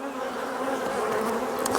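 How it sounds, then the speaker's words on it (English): Honey bees at an open hive drone in a dense, continuous buzz close by, with individual bees flitting past near the end. "there's lots of bees here"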